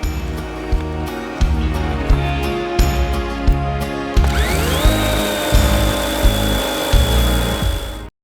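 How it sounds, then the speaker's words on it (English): A DeWalt 20 volt cordless power tool cuts up a tree at a snowy campsite, its motor whining steadily with repeated rhythmic cutting strokes and a rising pitch partway through, loud and close with no talk. "Well, the Dewalt 20 volt made short work of that tree."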